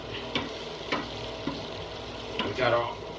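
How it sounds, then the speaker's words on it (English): Bacon fries in a pan with a constant close sizzle, broken by several scraping stirs of a utensil at irregular intervals. "that bacon's getting a little brown now"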